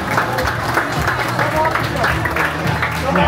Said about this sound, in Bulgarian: Още път аплодисменти за Снежанка.